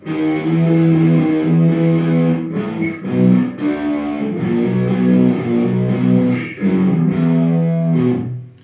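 Distorted electric guitar plays the closing riff sequence of a song, chunky repeated chords with short breaks, loud and close with no voices.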